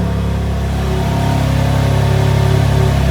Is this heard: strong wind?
no